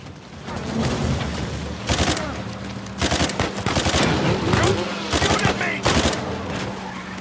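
Gunfire in Uncharted 4: A Thief's End, a series of loud, sharp bursts of shots and automatic fire spread over several seconds, with a steady game background hum underneath.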